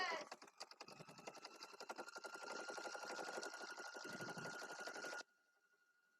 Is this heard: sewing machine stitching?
yes